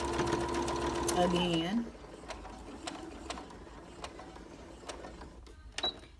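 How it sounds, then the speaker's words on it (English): A sewing machine stitches a small seam on a cathedral window quilt block, running in a short whir for under two seconds before stopping, followed by faint clicks and handling noises while a voice speaks briefly. "I want to sew in a little seam right there"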